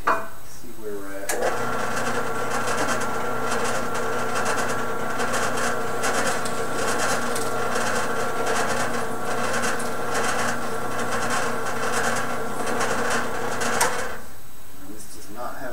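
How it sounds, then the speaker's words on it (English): A power drill boring a hole in metal whines steadily at a constant pitch for over ten seconds, loud and close, starting and stopping abruptly. "Let's drill a hole real quick, see where we're at."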